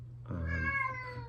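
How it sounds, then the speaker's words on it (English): A cat lets out a single drawn-out meow, fairly close and clear over a low background hum, with no talking. "Sorry for the cats"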